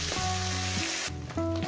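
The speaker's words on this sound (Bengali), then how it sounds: "একেবারে ভেজে নিচ্ছি" Small parshe fish frying in oil in a pan, a bright steady sizzle with crackling spatter close by, with no voices.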